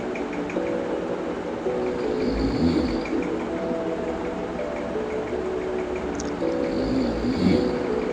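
A train at Mecheda railway station gives a steady rumble with sustained tonal whines rising and fading over it. No one speaks.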